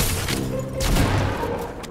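Rapid gunfire from shooting clones in a video game, with dense bursts of shots and thumping impacts that run almost continuously and loudly throughout.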